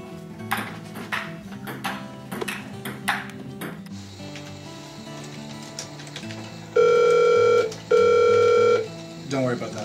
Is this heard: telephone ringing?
yes